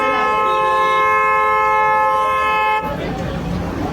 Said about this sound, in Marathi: कितना बजा रहे हो हॉर्न